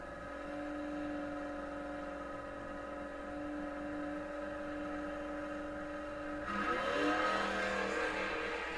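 A good-looking Mustang drag car nicknamed Eleanor at a bracket racing event: a steady engine drone holds, then swells into a louder, rougher roar near the end as the car launches down the strip.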